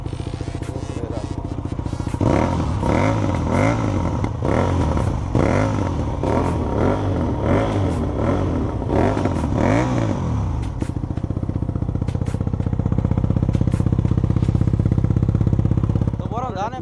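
A Comet GTR motorcycle on its original exhaust idles, then is revved repeatedly in quick rising and falling blips, each rev climbing and dropping, before settling into a steady, louder running note close by.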